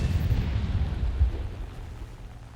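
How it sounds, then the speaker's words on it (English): A salvo of rockets explodes in a video game, with heavy low rumbling booms that roll on, then slowly fade over a couple of seconds. "rocket salvo"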